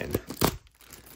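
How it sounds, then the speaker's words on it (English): A small plastic bag holding a Casio fx-8200 AU calculator is pulled open with a couple of quick crinkling tears up close, then brief rustling. "So it's in this little plastic bag. Should be able to just pull open here."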